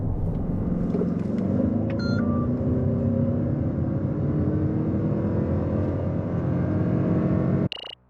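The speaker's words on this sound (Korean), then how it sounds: "이번에는 렉서스 NX450 플러스. 자, 가속 성능을 볼까요?" A Lexus NX450h+ plug-in hybrid SUV accelerates hard on a road test. A loud, steady engine and road roar holds throughout, then cuts off abruptly at the end.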